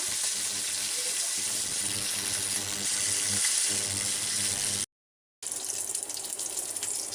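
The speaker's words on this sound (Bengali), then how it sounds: "আগে হচ্ছে মাছগুলো ভালো করে ভেজে নেব।" Fish frying in hot oil in a home kitchen gives a loud, continuous crackling hiss, broken by one brief silent gap before the sizzle resumes.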